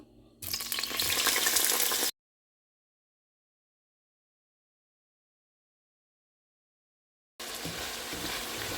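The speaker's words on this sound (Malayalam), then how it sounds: "ഞാനിവിടെ ഒരു പാൻ ചൂടാക്കി അതിനകത്ത് കുറച്ച് എണ്ണ ഒഴിച്ചിട്ടുണ്ട്. ഈ കോവയ്ക്കെല്ലാം നമുക്ക് ഇതിനകത്തുനിന്ന് വറുത്തെടുക്കാം." Ivy gourd fries in a pan of hot oil over a medium-high flame, a loud, dense, close sizzle that cuts out abruptly into silence and then resumes just as strongly.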